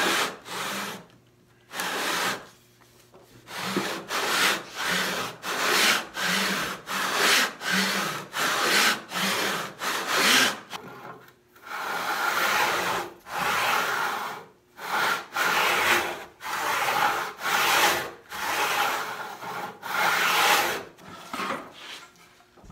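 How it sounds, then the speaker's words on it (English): Steady back-and-forth strokes of a hand saw resawing a wooden board for a sideboard side panel, close and loud, with a brief pause midway before the rhythmic sawing resumes. "Saw down the edge of this board like that"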